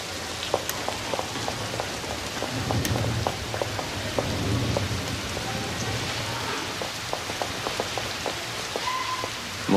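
Steady heavy thunderstorm rain patters across a surface with scattered louder drops and a low, rumbling undertone throughout, no voices present.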